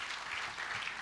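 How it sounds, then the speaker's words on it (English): A brief, faint patter of clapping from an audience at a social performance forum, heard from a distance as a soft, continuous burst. "Let's give him a big round of applause."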